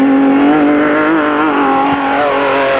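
A Raceco race car competing in the 1995 Baberspan 500 off-road race, its engine holding a loud, steady high-revving drone with slight pitch wavering, heard alone and close.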